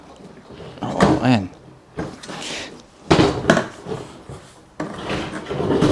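The lid of a stuck locking pannier on a CFMOTO 800MT Explore motorcycle is forced open, giving several hollow plastic thumps, clunks and scrapes close by, with a man exclaiming over them.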